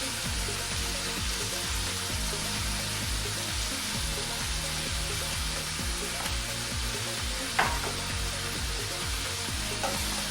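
Jambalaya ingredients sizzling in a pot as they are tossed and stirred, a dense continuous frying hiss with rhythmic scraping from the bottom and an occasional sharper clink, close and steady throughout.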